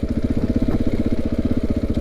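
A KTM 690 motorcycle crawls slowly along a trail, its single-cylinder engine thumping in a loud, even, rapid pulse close to the listener.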